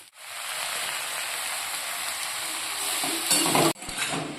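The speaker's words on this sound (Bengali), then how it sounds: "মিক্স ভেজটা ভাজা ভাজা হয়ে গেছে" Mixed vegetables frying with turmeric, coriander and chilli powder in a pan, a loud dense sizzle that swells briefly and cuts off for a moment before resuming.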